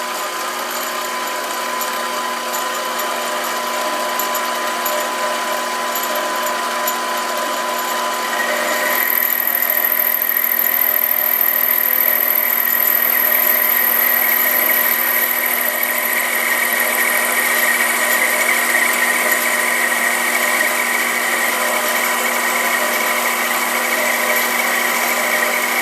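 A SIEG 7x14 mini lathe takes a turning pass at about 800 RPM, giving a steady, loud motor whine with constant tonal hum that steps up in pitch and volume partway through, then holds evenly to the end.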